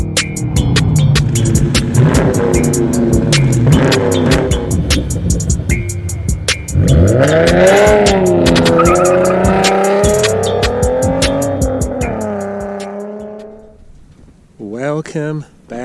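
A 2017 Dodge Charger SRT 392 Scat Pack with a 6.4L V8 roars loudly up through the gears and revs hard, with tire noise, then fades away as someone talks briefly at the end.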